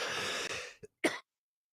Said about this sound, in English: I woke up with a bad cough this morning